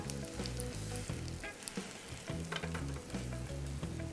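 A Spam tortilla wrap fries in melted butter with shredded mozzarella, giving a steady close sizzle with crackling pops and faint scraping, no voices.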